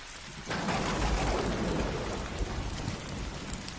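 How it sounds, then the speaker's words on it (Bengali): Heavy rain pours steadily with a sudden loud burst of thunder near the start, followed by a broad, sustained rumble under the downpour; no voices. "দূরে কোথাও হঠাৎ তীব্র শব্দে একটি বজ্রপাতের সঙ্গে"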